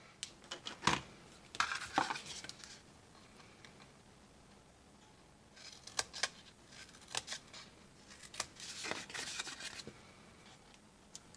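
Scissors snip through paper while a craft box holder for pigment sprinkles is being made, with quiet clusters of crisp cuts at intervals and pauses between them.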